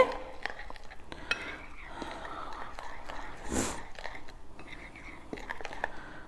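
Cutlery and dishes clink and rattle nearby as a spoon is fetched in a home kitchen while baking butter pecan cake mix cookies, scattered short metallic taps with a faint whispering voice.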